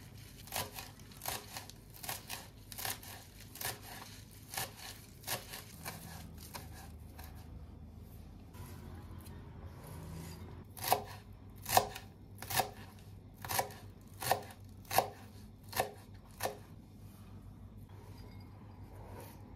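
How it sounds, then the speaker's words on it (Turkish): Steady knife chopping of fresh parsley on a cutting board, a run of quick crisp cuts that pauses briefly and then resumes louder and sharper, with no talking. "Bunları ince ince doğrayacağım."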